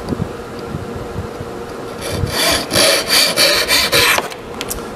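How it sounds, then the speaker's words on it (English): A wooden dowel end is trimmed with a saw, a few soft rubbing strokes followed by a run of about six loud, rhythmic back-and-forth rasping strokes close up, with no talking. "Here I'm just trimming off the end of the dowel."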